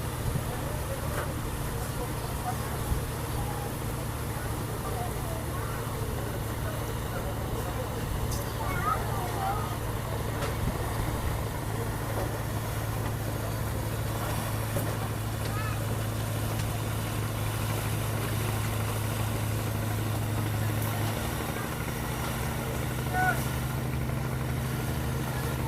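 Ship engine droning steadily as the vessel enters the mouth of the Lalong Bay estuary near Luwuk, Banggai, Central Sulawesi, a continuous low rumble with wind and ambient noise, constant in loudness for the whole stretch.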